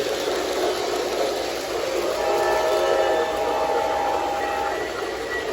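A steady mechanical rumble and hiss of an O gauge model train running along track, with a sustained whistle tone in the middle, no voices.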